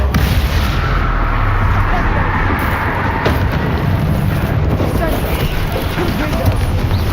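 Bombarda spell blasts in Hogwarts Legacy combat land as loud, dense booming bursts over a constant roar of battle noise, with voices speaking throughout.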